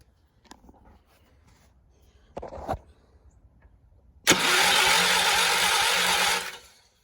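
After a couple of faint clicks, a John Deere 216 lawn tractor's starter cranks loudly and steadily for about two seconds, then stops without the engine catching.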